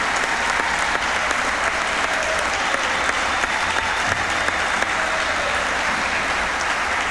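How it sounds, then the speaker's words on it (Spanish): A large crowd applauds steadily at a president's annual report address, a continuous dense wash of clapping that holds at an even level throughout. "Aquí está la gente aplaudiendo"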